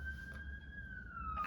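A single siren tone wails steadily and slowly falls in pitch, heard at moderate distance over low traffic rumble.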